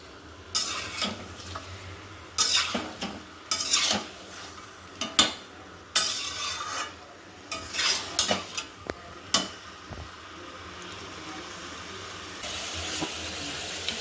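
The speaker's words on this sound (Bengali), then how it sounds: "মাংসটা এবার হাই ফ্লেমে কয়েক মিনিট একটু কষিয়ে নেব।" Chicken sautés on a high flame in a pan, repeated scraping stirs and metallic clanks of a spatula coming in irregular bursts over a low sizzle, close and alone without talk.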